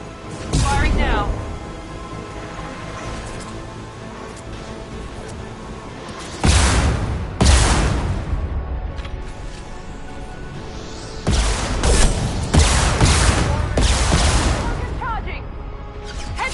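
Gunfire and heavy blasts from the Mass Effect video game come in loud bursts around the start, near seven seconds and from eleven seconds onward, over a steady bed of game sound and music.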